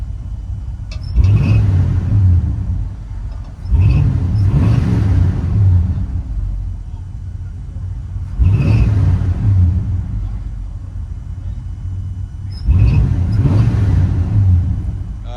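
A 1972 Oldsmobile Cutlass with a 350 Rocket V8 revs loudly from inside the cabin, four deep rumbling throttle blips rising and falling in steady succession over a constant idle drone.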